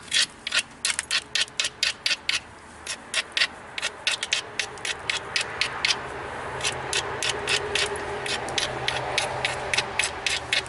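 A dacite biface edge is ground, making a rapid series of sharp scraping strokes in quick irregular bursts, close and crisp over a faint background hiss.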